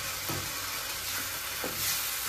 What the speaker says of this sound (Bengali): ফোড়নটা আমি এর মধ্যে মিশিয়ে দিলাম